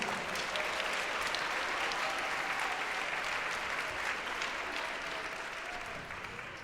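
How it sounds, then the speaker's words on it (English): Sustained applause from an audience at a Montgomery County MLK Day celebration honoring the county executive, a dense steady wash of many hands clapping throughout, fairly loud and even, easing slightly toward the end. "Let's give a round of applause again for our county executive,"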